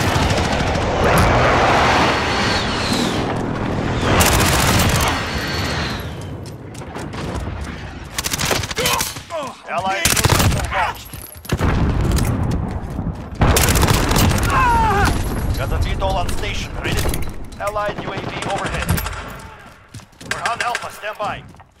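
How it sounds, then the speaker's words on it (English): A Call of Duty Modern Warfare domination match roars with loud airstrike explosions and rapid automatic gunfire. Heavy booms and bursts of fire repeat almost without pause, with brief lulls between volleys. "Allied precision airstrike incoming"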